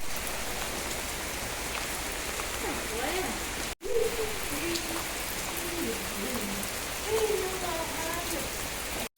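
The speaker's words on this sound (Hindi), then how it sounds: "हाँ हाँ वर्षा है रे ओ" Rain falls steadily in a village during cold, rainy weather, a continuous close patter of drops on surfaces throughout, with faint voices and tonal calls rising over it in the second half.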